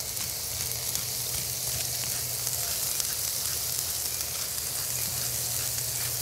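Burger patties seasoned with salt and crushed pepper sizzle on a flat griddle of a grill BBQ island, a dense, even, close sizzle of grease holding steady without talk.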